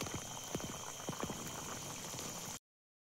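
Wajdi curry bubbles at a steady rolling boil in a pot outdoors by a riverbank, with continuous close bubbling and scattered sharper pops, no voices.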